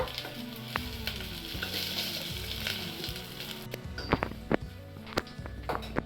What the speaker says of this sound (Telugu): అవి కొద్దిగా ఫ్రై అవనిద్దామండి